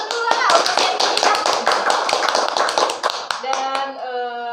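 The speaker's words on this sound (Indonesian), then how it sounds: "Kasih tepuk tangan dulu lah untuk CNP kita." Several people clap quickly and rhythmically for a few seconds close by, the claps fading out as a voice starts to speak.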